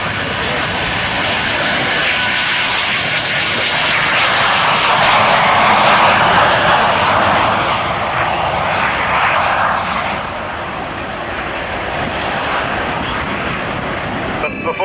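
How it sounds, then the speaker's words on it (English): A Lockheed F-117A stealth fighter jet taking off at an air show, a loud, broad roaring engine rush that swells to a peak midway and then eases off while staying strong throughout. "With its escort of 4 F-15s, the stealth fighter is taking off"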